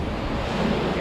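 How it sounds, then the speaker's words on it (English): A landing net dipped into river water while perch fishing on the upper Avon, heard as a brief, close, steady rush of water noise. "Again, let's just wet the net."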